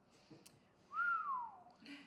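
One person gives a single clear whistle, a short note that slides up and then falls away. It is close and stands alone against quiet, calm surroundings during a gentle stretching session.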